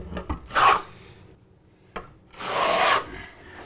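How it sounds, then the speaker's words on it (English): A trowel drags tile adhesive across a wall in two short scraping strokes separated by a pause, close and fairly clear with no talking. "now we're just going to apply the product on the wall"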